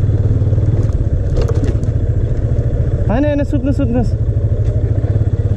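A motorcycle on a rough, bumpy road in Dang, Nepal, rumbles loud and close with a steady throbbing engine and rattling clatter throughout, while a voice speaks briefly over the noise midway.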